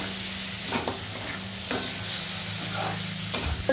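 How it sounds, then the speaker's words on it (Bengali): Fried fish heads are stirred into sizzling onion-spice masala for moong dal, a steady close frying hiss broken by several spatula scrapes. "মা যে মাছের মাথা দুটো ভেজে রেখেছিল সেদিকে দিয়ে দিল।"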